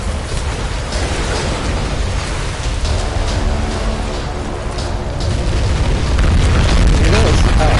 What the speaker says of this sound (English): Solving problems with explosions.